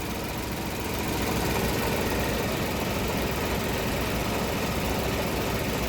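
A 2015 Ford Ka 1.0 engine idles in a repair shop after a new oxygen sensor was fitted, giving a steady, close, unbroken mechanical hum with faint vibration and no talking.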